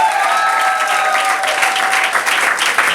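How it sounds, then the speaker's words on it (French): Applause from guests at a civil wedding ceremony, a steady, loud and close wash of clapping that continues without a break, with no voice over it. "Applaudissements."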